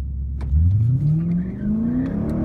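A Ford Mustang 5.0 engine accelerates hard during a race, its loud, close engine note climbing steadily in pitch without a break and with no voices.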